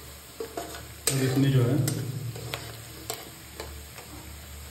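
Onions frying in a pan for a Bihari-style rohu fish curry with mustard paste, a loud sizzle bursting up as they are stirred, with spatula scrapes and brief talk over the cooking.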